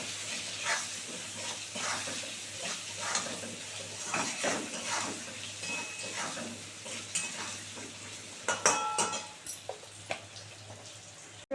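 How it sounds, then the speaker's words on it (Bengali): Potatoes frying in a pan for a Bengali banana-flower ghonto, with steady sizzling and repeated scraping stirs throughout, a sharper burst of clatter near the end; no talking. "এবারে আলুটাকে সুন্দর করে লাল করে ভাজবে বন্ধুরা"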